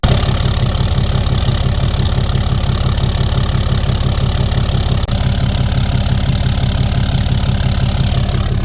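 A turbo diesel engine idles close by, loud and steady with a fast, even knocking clatter and a deep rumble underneath that runs unbroken from start to finish.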